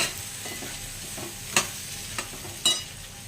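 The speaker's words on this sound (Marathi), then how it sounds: "ह्यांना पण आपण छानपैकी असं ढवळून घेऊया." Dal grains are stirred into hot spiced frying oil, giving a soft steady sizzle with a few scraping clinks of a spoon against the pan, close and quiet, with no talking.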